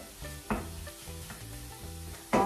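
Chicken breast and onions frying in a pan on low heat, a steady soft sizzle with a few louder bursts of stirring and clatter, no talking.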